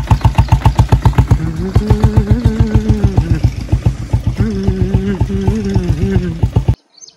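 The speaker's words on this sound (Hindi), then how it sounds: "और ये रहा हमारा बुलेट" A Royal Enfield Bullet motorcycle idles close by with a loud, steady thumping beat, its pulses rising and falling slightly before the engine cuts off at the end.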